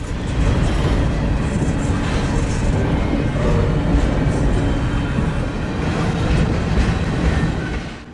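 CN freight train hauled by second-hand locomotives rolling past, loud and near, a continuous heavy rumble of wheels with rhythmic clickety-clack over rail joints, sustained for the whole stretch with no talking.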